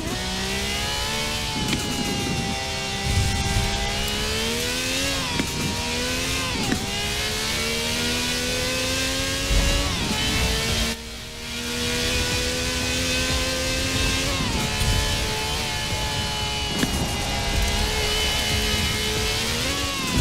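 A Ferrari Pista engine roars continuously in Forza Horizon 4 while drifting, its loud revs rising and falling with repeated gear shifts and a brief lift-off near the middle, with no talk over it.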